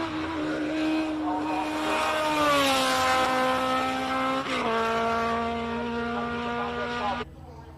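Cosworth-powered March 79B single-seater race car climbing a hillclimb course, its engine screaming loud and close, pitch rising through gears with a brief shift dip before cutting off near the end.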